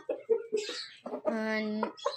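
Chickens cluck in short bursts close by, followed by a drawn-out, strained rooster call and more clucking.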